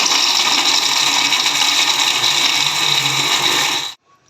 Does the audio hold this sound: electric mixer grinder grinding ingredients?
yes